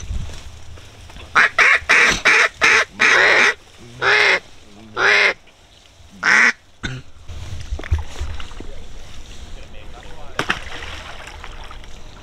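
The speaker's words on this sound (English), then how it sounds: "Those are ducks." Wild ducks call during a cold-weather hunt, sending out a quick series of close, loud quacks that then give way to quieter outdoor ambience.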